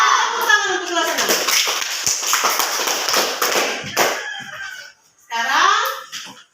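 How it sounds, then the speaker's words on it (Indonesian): Grade 6 class applauding their teacher, a dense burst of close hand clapping with children's voices over it, a short pause, then a second brief round of clapping. "Tepuk tangan untuk kelas 6."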